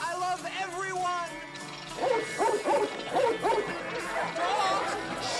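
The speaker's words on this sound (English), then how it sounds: "Dogs?" Several dogs bark in a quick burst of yips and bow-wows near the middle, following a stretch of talk and overlapping it at the end.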